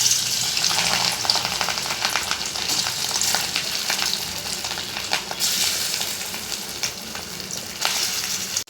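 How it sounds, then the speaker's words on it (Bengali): Pieces of fish sizzle loudly in hot oil for a chilli fish dish, a dense steady crackle with occasional sharper pops and bursts of spattering throughout, close and with no talking. "তেলটা গরম হয়ে গেছে, এবার এক এক করে মাছগুলো ভেজে নেব।"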